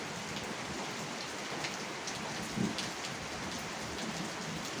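Steady, even rain pours down continuously, a dense hiss of drops with no voices or other sounds standing out.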